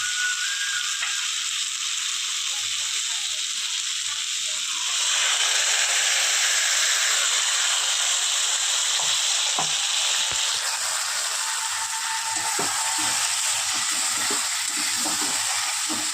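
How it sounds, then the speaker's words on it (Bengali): Boiled moong dal with a hilsa fish head fries in a pan, its hiss swelling into a louder, fuller sizzle about a third of the way in, with occasional stirring scrapes and no voices. "এবার ডালটা দিয়ে একটুখানি নাড়াচাড়া করে নেবো"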